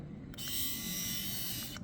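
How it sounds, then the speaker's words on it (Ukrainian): A Kemei KM-1005 portable rotary electric shaver runs with a steady, moderately quiet motor whine, switching on and off at either end of the short stretch. "Тобто сама електробритва, не скажу, що вона е, супер тиха, але і не голосна."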